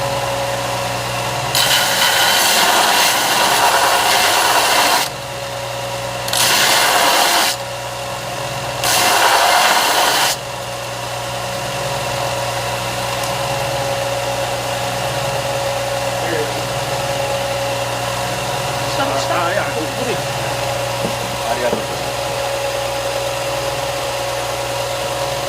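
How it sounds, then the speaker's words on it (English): Bench grinder touching up a hand-forged knife, heard in three loud, rough bursts of a few seconds each, with a steady low hum running underneath throughout. "Like he's just touching it up now with the grinder."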